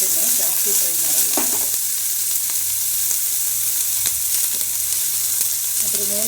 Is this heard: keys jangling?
no